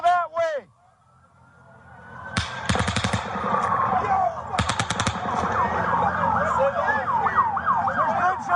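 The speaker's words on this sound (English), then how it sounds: "There's gunshots coming from over there!" Bursts of rapid gunfire crackle from a played news recording, two volleys of quick sharp shots amid chaotic crowd noise, with people shouting and talking throughout.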